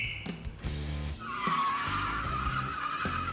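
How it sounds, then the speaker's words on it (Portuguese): Car tires squeal and skid in a sustained screech while the car spins donuts in a parking lot, the engine rumbling underneath, close and loud for several seconds. "Eu testei os pneus, dei uns borrachões, uns cavalos de pau."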